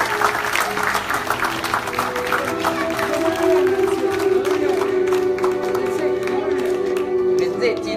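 An audience at a school magic show's final performance breaks into sustained applause, dense and loud throughout with crowd noise layered over it.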